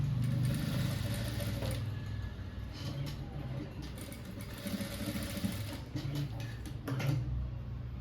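Continuous whirring of a sewing machine stitching a three-dart blouse, close and steady throughout with a light mechanical clatter and no voices.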